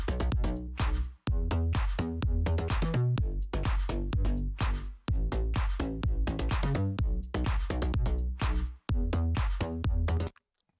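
Slap house drum loop with heavy sidechain compression: punchy kicks and snappy hits in a driving four-on-the-floor groove, loud and pumping, with brief dropouts between bars and no voice.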